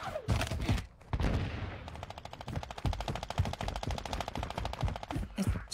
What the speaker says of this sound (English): It's just a powerful gun.